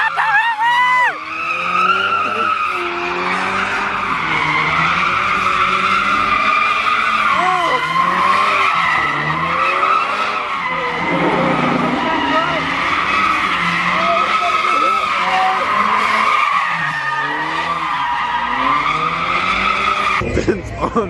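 Cars drift at a warehouse lot, tires skidding and squealing almost nonstop for about twenty seconds while engines wail and rise and fall in pitch. The sound is loud and fairly close, and voices shout in the background.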